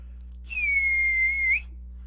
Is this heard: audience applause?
no